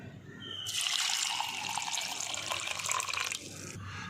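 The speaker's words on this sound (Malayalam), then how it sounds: "അതിനായി പുളി കുറച്ച് തിളച്ച വെള്ളത്തിലോട്ടിടാം" Water poured over tamarind for a Kerala-style fish pepper curry, a close, steady splashing trickle lasting about three seconds before stopping, with no talking.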